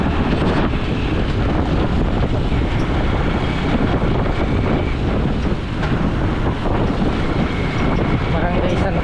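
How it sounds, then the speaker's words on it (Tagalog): Continuous wind roars across the microphone, a dense, steady blustery rush with no pause from start to finish. "Kainit ng buga ng hangin ano."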